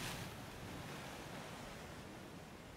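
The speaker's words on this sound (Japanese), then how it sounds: "海の音もある" Ocean surf from the shoreline of a PUBG battle royale map, a steady broadband wash of waves rolling in with a faint windy hiss, continuous and fairly loud throughout with no voices.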